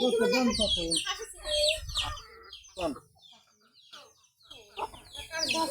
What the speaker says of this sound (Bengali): এখানে মুরগিগুলা খাচ্ছে